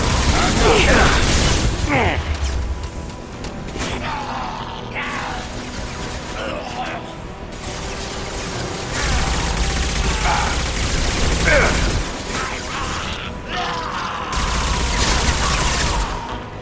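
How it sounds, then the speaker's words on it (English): Heavy gunfire and combat clatter in Mass Effect 2 on Omega, dense bursts of shots and mechanical impacts running steadily throughout at close range, with a voice speaking over parts of the fight. "Taking heavy fire."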